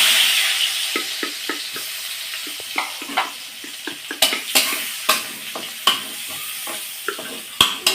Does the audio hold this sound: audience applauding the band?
no